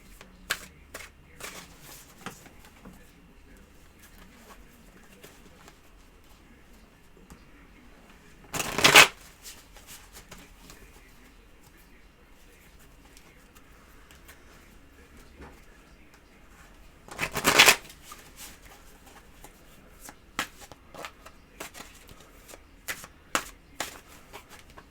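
Tarot cards being shuffled by hand in a quiet room, two short, crisp riffling bursts about eight seconds apart, with faint handling rustles and taps between them.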